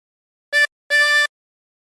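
Two drawn harmonica notes on hole 4, a short one then a longer sustained one, reedy and close with silence between and no voices.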